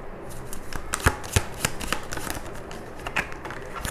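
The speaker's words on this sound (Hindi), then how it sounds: "फिर से शफल करते, बहुत सारे कार्ड्स गिरे" Tarot cards being shuffled by hand during a reading, a close, steady run of crisp riffling flicks and sharp snaps with a few louder slaps, no talking.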